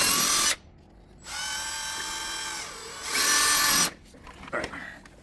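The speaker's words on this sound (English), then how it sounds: "So I'm going to drill two little pilot holes and see what happens." Power drill boring two pilot holes into the body of a Land Rover LR3 while fitting a winch fairlead; two loud, steady whining bursts of drilling with a quiet pause between, then faint clicks.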